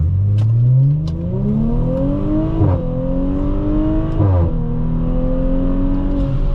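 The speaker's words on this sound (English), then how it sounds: "how quickly this car gets up to 60 once the traffic passes by us" A 2018 Audi S4 3.0T launches toward 60 mph, its engine note climbing in three rising sweeps broken by quick gear shifts, loud and close from inside the cabin.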